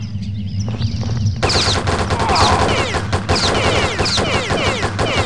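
Rapid bursts of gunfire from the video game Postal, loud and close, with rattling repeated shots and scattered ringing casings after a short, quieter lead-in.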